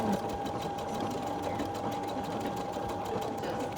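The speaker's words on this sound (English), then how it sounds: "you can sew the fabric together" A sewing machine stitches fabric together, a steady close mechanical whir with a fast even needle rhythm running throughout and no talk.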